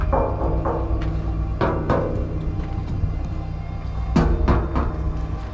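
Several sharp knocks on a resonant metal door inside a former Yugoslav army underground tunnel on Brač, a quick group at the start, two more raps, then another cluster of hard bangs near the end.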